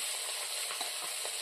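Duck meat sizzles and fries in a pan of browned onions in a home kitchen, a steady, close and even hiss of hot oil with soft stirring, no voices present.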